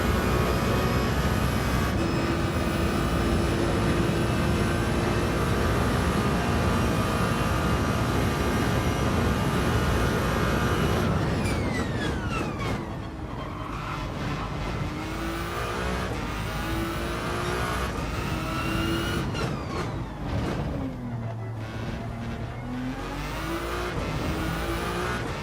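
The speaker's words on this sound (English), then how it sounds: "The sound of this car is wild. This is not what I was expecting from a Ferrari." A Ferrari engine in Gran Turismo 7 holds a loud, steady drone for the first half, then drops and shifts into changing pitches, with what sounds like electric-motor whine alongside gear changes as the car accelerates.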